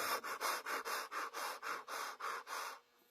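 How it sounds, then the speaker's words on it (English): Hit-and-miss flywheel engine coasting with its exhaust valve held open, drawing air in and puffing it back out in an even, breathy rhythm of about ten whooshes, close and clear, then stopping. "that's just air being sucked in and blown back out of your exhaust"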